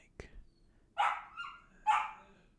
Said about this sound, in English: If you can hear my dog,